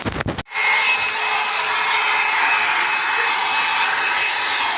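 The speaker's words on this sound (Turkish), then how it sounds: "Şimdi kartımızı da su gelme ihtimaline karşı güzelce ne kuruluyoruz." A hair dryer blows steadily on a Demirdöküm Aden combi boiler circuit board, starting with a short click and sputter and then settling into a loud, constant whooshing roar right next to the listener, with no talk.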